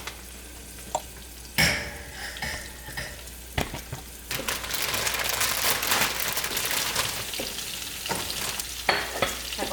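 Broccoli dropped into a hot pan bursts into loud crackling sizzle that settles into a steady dense frying hiss, with a few sharp clatters of a utensil stirring, close up and without voices.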